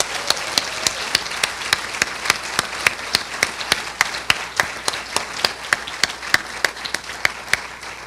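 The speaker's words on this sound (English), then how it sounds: "Let's give him a huge Long Beach round of applause." Sharp, evenly spaced claps ring out in a steady rhythm over a softer bed of audience applause at a Long Beach university educational forum.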